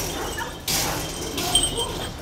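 Kangal dogs at a breeding farm give a couple of loud, close barks and yips over steady outdoor background noise, one abrupt bark followed by shorter whimpering yelps.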